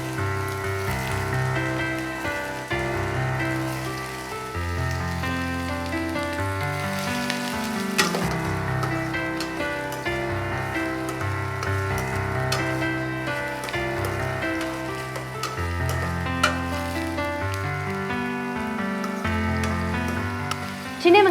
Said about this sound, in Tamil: சின்ன வெங்காயம் நல்ல ஒரு ரெட்டிஷ் ப்ரௌன் கலரில் வர வரைக்கும் நல்லா வதக்கிக்கணும்